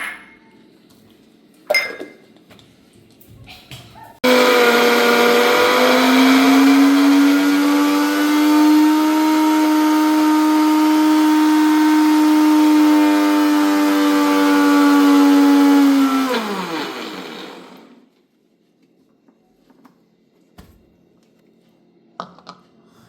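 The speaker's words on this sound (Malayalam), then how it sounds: "ആവശ്യത്തിന് തേങ്ങ ഒരു കപ്പ് നമുക്ക് അരച്ചെടുക്കാം" A mixer grinder whirs loudly and steadily for about thirteen seconds while grinding coconut for chutney, then winds down and stops, with quiet kitchen clinks before and after.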